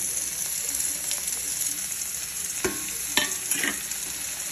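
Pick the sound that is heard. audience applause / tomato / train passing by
tomato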